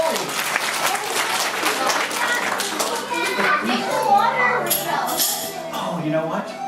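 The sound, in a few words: children's applause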